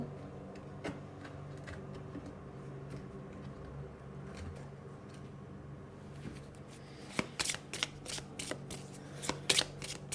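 Tarot cards shuffled by hand, a steady papery riffle under a low room hum, ending in several sharper snaps and flicks as the deck is squared and cards are drawn; no one speaks.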